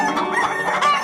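A cartoon chicken gives a quick run of loud, close clucks in a rapid squawking rhythm, alone, in a Bengali animated folk tale.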